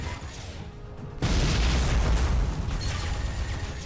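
Missiles from a giant mechanical crab boss in the Deep Black video game burst into a loud, booming explosion that hits suddenly after a quiet moment and rumbles on, fading slowly.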